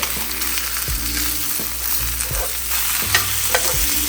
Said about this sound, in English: All right, let's give it another flip.